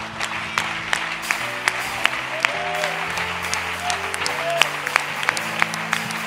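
A church congregation at a Monday Bible service claps rhythmically and acclaims together, with sustained musical tones and voices running beneath the steady applause.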